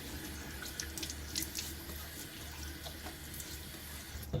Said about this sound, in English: All right, so I'm gonna get my face wet.